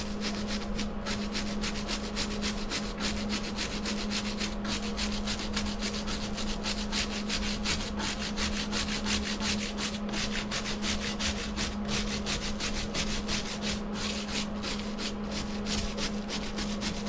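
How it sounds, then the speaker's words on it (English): A brush scrubs between dirt-clogged air conditioner coil fins, giving a continuous close rasping rub with a low steady hum underneath and no talking. "Now we're just going to do some scrubbing in between these."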